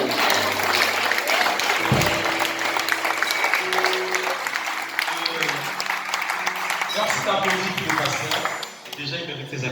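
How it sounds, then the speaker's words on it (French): Crowd applause and cheering for a pastor at a surprise birthday celebration in a church setting, a dense continuous wash of clapping with voices mixed in, loud and sustained before tapering off near the end. "Déjà, il mérite ses acclamations."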